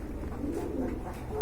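A pair of pigeons coo softly and close by in a low, murmuring rumble that carries steadily through the brief moment.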